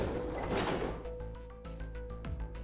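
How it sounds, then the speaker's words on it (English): A gate in the video game Zero Escape: 999 creaks open with a low grinding mechanical rumble, then a series of softer metallic clanks and knocks trailing off, moderately loud with no voices. "they both pushed, and the gate creaked open."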